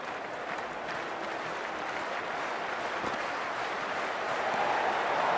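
A large crowd at a South Africa versus England cricket World Cup semi-final makes a constant roar of cheering and applause, with no clear breaks and a slight swell toward the end.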